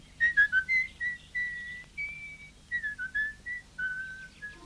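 A person whistles a lilting tune alone, a string of clear bright notes, some short and quick, others held, in a moderately quiet, near setting with no talking.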